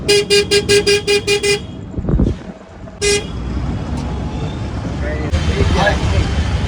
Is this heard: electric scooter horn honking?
yes